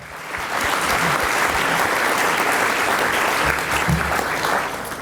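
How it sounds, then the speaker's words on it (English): A large audience breaks into sustained applause, a dense, loud wash of clapping that holds steady for several seconds with little talk over it. "a round of applause for yourselves as well"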